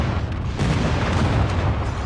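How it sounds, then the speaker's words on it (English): Friendly airstrike explosions in a combat video game land as a dense, heavy low rumble of overlapping booms, loud and sustained with no clear gaps. "Friendly airstrike incoming"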